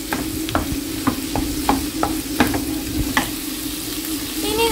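Onion and garlic fry in a pan for Koorka Upperi, a Kerala stir-fry, as a spoon scrapes and stirs them in a steady rhythm of clanks over a constant loud sizzle.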